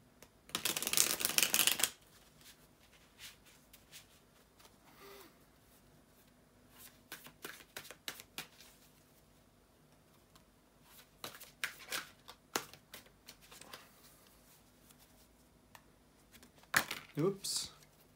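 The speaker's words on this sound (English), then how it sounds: "bear with me just a second, guys, to shuffle the tarot cards" A burst of tarot cards being shuffled rapidly up close at the start, followed by scattered soft card flicks and taps over a quiet room.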